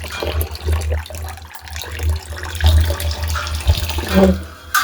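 Water from a tap runs into a container for making mango juice, a steady splashing flow with a few brief knocks and clatters, fairly close.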